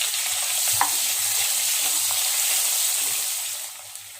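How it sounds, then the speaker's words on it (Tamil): Chopped onion and three green chillies sizzle steadily in hot oil with fennel seeds in a pan for mushroom biryani, with a few soft stirring clinks, close and alone without talk. "ஒரு வெங்காயம் 3 பச்சை மிளகாய் போட்டிருக்கேன்."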